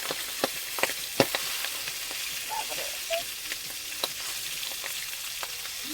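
Oil spluttering hard around freshly caught river fish and crab in a frying pan, a continuous hiss broken by sharp popping crackles at irregular moments, fairly close.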